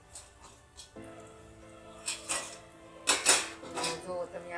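A steel plate resting as a lid on a pan is lifted off with light metallic clinks and scrapes in a quiet home kitchen while a person talks.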